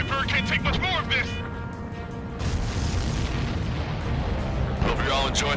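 Heavy booming explosions and blasts rumble continuously in the Ace Combat 7 combat flight game, with voices talking over the din.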